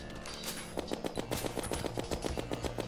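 Uzi firing in Terraria, a fast even stream of repeated shots that runs steadily and fairly close under faint background game sound.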